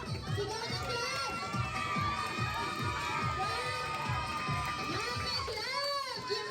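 Club members in a crowd shout and cheer together at a school pageant, with children's voices yelling in rapid rhythmic bursts, loud and sustained throughout.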